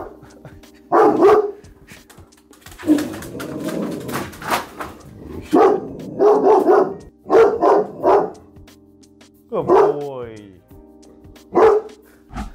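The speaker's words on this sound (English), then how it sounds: "So right now my dog has detected that there might be a threat and he's freaking out." A dog barks in repeated loud bursts, alert to a possible threat, with gaps between volleys and some softer vocal sounds mixed in nearby.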